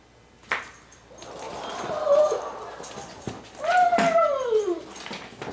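A dog whimpers and cries in the background, with rising and falling whiny tones clustered in two bursts, moderately loud amid faint room noise and a thump or two.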